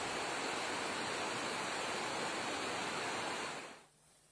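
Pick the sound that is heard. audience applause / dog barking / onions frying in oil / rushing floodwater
rushing floodwater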